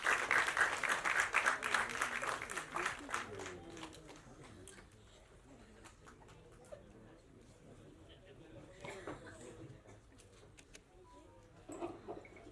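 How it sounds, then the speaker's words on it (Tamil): Audience at a film audio and trailer launch event applauding a guest onto the stage, a loud burst of clapping that fades after about four seconds into quieter room noise with scattered voices. "காமெடியில் சிறந்த கலைஞராக விளங்கும் இமான் அண்ணாச்சி அவர்களை உங்கள் கைத்தட்டவர்களுடன் வரவேற்கிறேன்"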